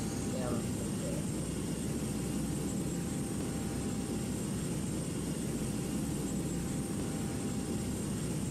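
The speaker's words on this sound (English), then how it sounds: "This time we are going to taxi to the runway to take off for San Jose." Airplane engine in a flight simulator game, taxiing to the runway for takeoff to San Jose: a steady, dense engine drone with low rumble holds evenly throughout without letting up.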